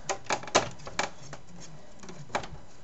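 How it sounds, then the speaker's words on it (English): Small screws being driven into a PC case during a build, giving a few sharp, quiet clicks and rattles spaced irregularly, close by, with no talking. "Start screwing."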